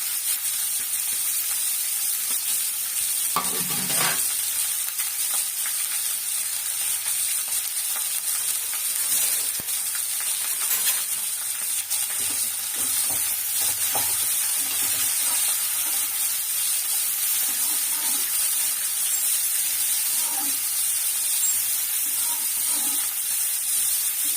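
Broad beans (avaraikai) sizzle and fry in hot oil with mustard seeds, urad dal and curry leaves in a home kitchen, a steady loud hiss throughout with occasional stirring scrapes and clinks, no talking.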